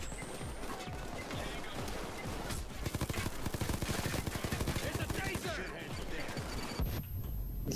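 Gunfire in the video game Payday 2 during a prison break: dense, rapid bursts of shots crackle continuously with a stretch of fast, loud automatic fire in the middle, while players talk over the action.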